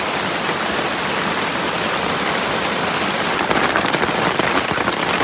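Heavy rain pours steadily over a forest, a dense continuous hiss of drops striking leaves and surfaces, close and loud throughout with slightly stronger bursts near the end; no voices.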